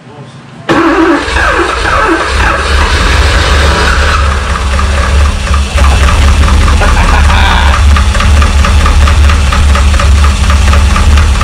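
A Porsche 928 V8 idles roughly after starting, with a knocking noise from running without oil. It is loud and close, continuous throughout, and voices talk over it.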